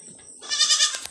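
A goat gives a loud, wavering bleat close by, with a quiet stretch just before it. No one is talking.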